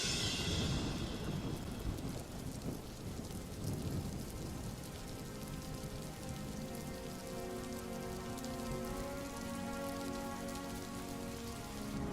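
Steady rain patters down in a cartoon scene, a soft continuous hiss of drops on surfaces with a faint low rumble, no voices, fairly quiet throughout.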